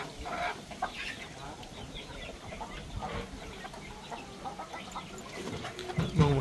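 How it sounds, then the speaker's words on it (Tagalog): Chickens on a farm, with scattered clucks and short calls over a busy, rustling background. The sounds come from several birds at varied distances, and no one speaks. "Mga manok natin ang dono."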